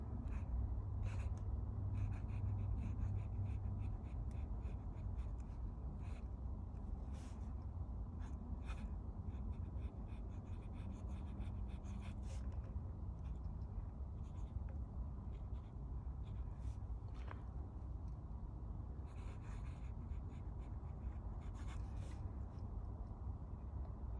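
A Platinum Preppy fountain pen with a fine nib scratches across paper in a steady stream of soft, close strokes with occasional sharper ticks over a low background hum.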